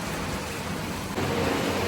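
Steady rain pours outside a home, a continuous close hiss of drops that swells a little louder partway through, with no voices.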